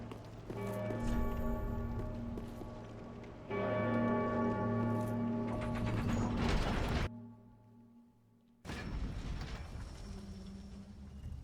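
A bell tolls in the video game Dark Souls III, in the Nameless King fight, layered over grinding mechanical clanks and ringing tones that swell, cut out briefly, then return, with no speech.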